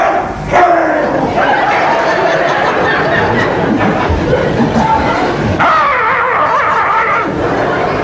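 A man imitates a dog with his voice in a Hungarian comic performance, giving a run of yelping, barking sounds mixed with vocal chatter, close and loud.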